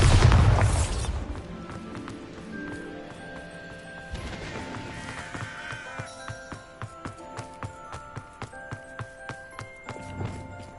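A loud Bombarda spell explosion from Hogwarts Legacy booms at the start and fades into a rumble, followed by a second burst and then a steady run of clopping, hoof-like footsteps under tonal game music.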